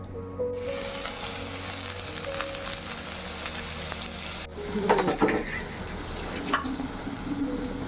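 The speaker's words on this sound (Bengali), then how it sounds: "তেলটা গরম হয়ে গেছে এবার আমি দিয়ে দিচ্ছি পেঁয়াজগুলো" Finely sliced onions sizzle steadily in hot oil, being fried crisp for biryani birista, with a brief louder crackle and stirring clatter midway, and no talking.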